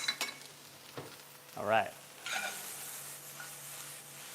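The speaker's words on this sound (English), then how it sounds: "The onions are starting to sweat down." Chopped onions sizzle steadily in a hot pan for breakfast tacos, a soft continuous frying hiss with a few stirring scrapes, and a voice speaks briefly.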